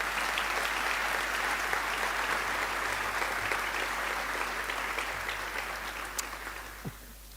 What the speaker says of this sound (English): I want you to thank all of them with a round of applause